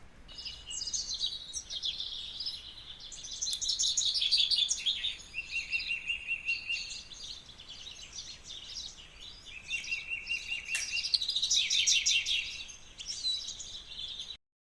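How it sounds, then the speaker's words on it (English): Several birds chirp and sing in a busy, overlapping chorus. The calls are fairly close and keep going steadily with no one talking. "maybe we would listen to a little bit of nature, some birds singing."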